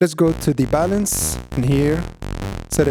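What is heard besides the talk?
None of the usual background noises is heard.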